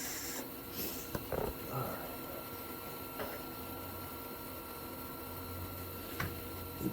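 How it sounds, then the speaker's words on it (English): A Titanium 140 Unlimited MIG welder runs a quick test bead at 250 wire speed and 17 volts, giving a steady close crackling buzz through the whole stretch with a low hum entering partway. "It's just a quick MIG test. I have it 250 wire speed, 17 volts."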